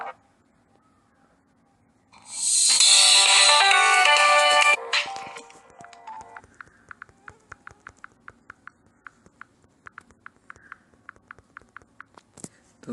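A phone's video ringtone plays loudly for about three seconds during a test call, a bright dense burst of tones, followed by a string of soft rhythmic clicks or taps.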